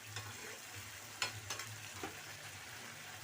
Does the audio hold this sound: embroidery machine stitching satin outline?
no